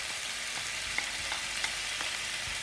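Onions and chanterelle mushrooms fry in a pan with a bright, even hiss of sizzling fat and a few soft taps of a utensil, close and steady with no talking.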